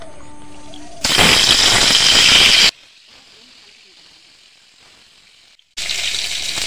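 A pangas fish head hits hot oil in a wok and sizzles loudly for about two seconds, fades to a quiet crackle, then erupts into loud frying again near the end.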